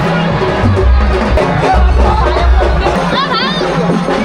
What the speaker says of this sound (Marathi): तुम्ही बाहेरची गर्दी बघा एकदा.